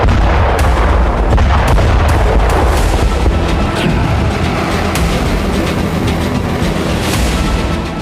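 Missile strike explosions in Kyiv from a North Korean KN-23 ballistic missile, a sustained loud barrage of heavy booms and rumbling blasts, continuous and close with sharp impacts scattered throughout.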